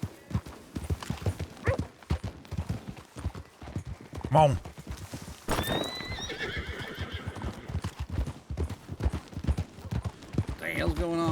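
Horses neigh and whinny amid a steady clip-clop of hooves in a Western setting, with a loud whinny rising mid-clip over frequent shouting and talk from several people.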